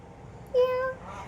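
A child makes a single short, high, thin meow, imitating a small cat, over faint room noise.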